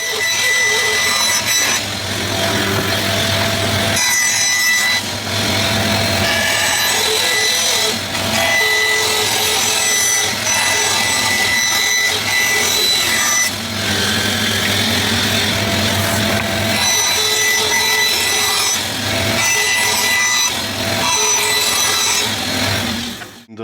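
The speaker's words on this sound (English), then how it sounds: "mark the circles and cut them roughly on the bandsaw." Sustained, loud mechanical whine of a bandsaw roughly cutting circles from wood, steady with brief dips and no speech, running continuously for over twenty seconds.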